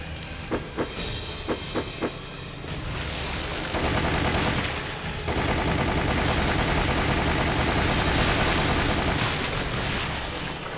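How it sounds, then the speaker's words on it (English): A submachine gun fires in a video game, first a few isolated shots, then long, dense bursts of rapid automatic fire, loud and close, with no talking. "This submachine gun is working pretty well."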